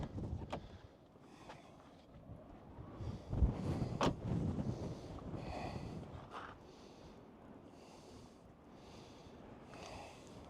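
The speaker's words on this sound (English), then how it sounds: "it's awful windy" Gusty wind buffets the microphone outdoors during a tire plug repair in faint low rumbles, with a few sharp knocks and soft breathy sounds, no talking.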